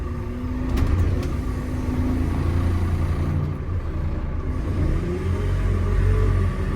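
A JCB 4CX backhoe loader engine runs steadily while the machine digs, giving a continuous low diesel rumble at moderate loudness with no talking over it.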